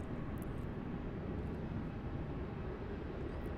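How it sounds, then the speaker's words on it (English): Airliner taking off at Melbourne Airport, a steady broad engine roar heard from a distance, constant and moderately loud with no talk. "A wonderfully effortless takeoff there."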